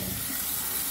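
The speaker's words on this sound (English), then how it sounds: "fill the cup up with water" Water runs steadily from a tap into a small paper Dixie cup holding a pump of soap, a brief, close, even splashing hiss with no talking.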